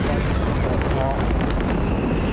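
A Stuka dive-bombing strike in Company of Heroes 3 during a 1v1 pro league match, a dense, loud rumbling blast and roar filling the whole moment, with a commentator talking over it.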